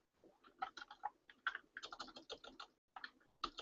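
Fingers typing on a computer keyboard, bursts of quick, close key clicks with short pauses between runs, no voices.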